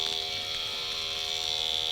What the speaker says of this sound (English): The buzzer! The warning signal.